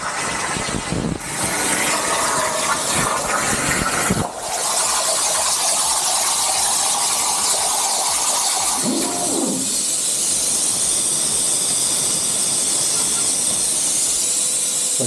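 A CNC plasma cutter slices out a steel part for a welding cart, a loud steady hiss with a brief noisy burst near the start, running alone without talk.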